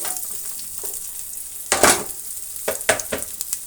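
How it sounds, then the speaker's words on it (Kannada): Mustard seeds, chopped onion and green chillies fry in a hot pan with a steady sizzle, broken by a few loud stirring scrapes and clatters of the spoon against the pan. "ಇಷ್ಟು ಇಂಗ್ರೀಡಿಯೆಂಟ್ಸನ್ನು ಫ್ರೈ ಆಗಲಿ"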